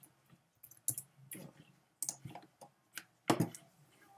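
Computer keyboard and mouse clicking while copying and pasting, a handful of close, irregular sharp taps and clicks spaced through a quiet background, without speech.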